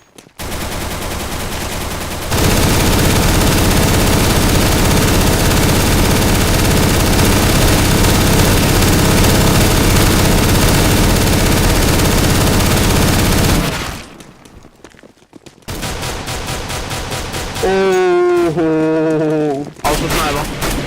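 Auto-sniper rifle fire in Counter-Strike: Global Offensive, a loud, dense, sustained barrage of rapid shots that cuts off into a brief gap, then resumes alongside a voice.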